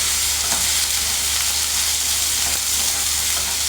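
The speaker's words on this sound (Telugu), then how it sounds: "బాగా మంచిగా ఫ్రై అయిపోవాలి." Koyagura frying in a pan with ginger garlic paste, onion and green chili, a loud steady sizzle that runs close and unbroken throughout with no talk.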